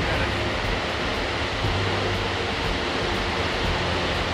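A waterfall on a fish-collecting expedition roars as a steady, loud, unbroken wash of noise with no voices.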